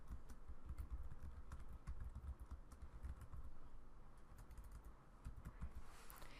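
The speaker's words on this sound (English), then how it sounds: "Now we're going to type in the title." Someone types on a computer keyboard close by, a steady patter of quick key clicks in uneven bursts over a faint background hum.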